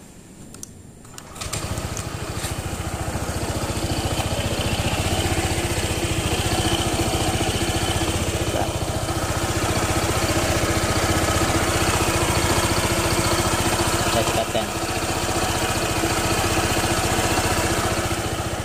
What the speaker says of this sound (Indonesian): kekurangan yang kedua masih tetap seperti awal motor ini datang ya, yaitu suara mesinnya ini kasar